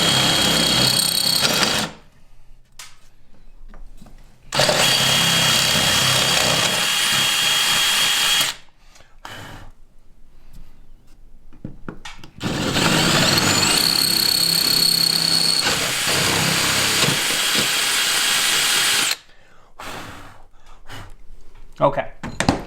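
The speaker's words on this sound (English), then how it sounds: "You're supposed to drill it with a 1/4 inch." A power drill with a 1/4 inch bit bores through fiberglass on a Jeep Gladiator roof, in two long loud whirring bursts and a shorter one, separated by quiet pauses.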